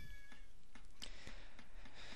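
A cat in the Shenmue video game gives soft, faint meows amid quiet game ambience, with a few brief pulses and no talking.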